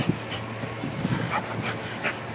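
A corgi makes quick, excited sounds up close, with soft yelps, panting and scuffling in a short burst.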